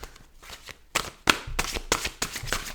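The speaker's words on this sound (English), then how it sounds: "One more shuffle." Tarot cards shuffled by hand in a series of sharp riffling bursts, about five or six close, crisp passes separated by brief pauses.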